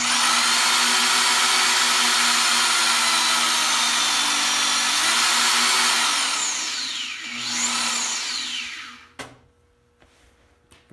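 A modular tubing notcher machine powers up and runs with a steady, loud electric motor whine for several seconds, then winds down with a falling pitch before a sharp clunk and quiet hum.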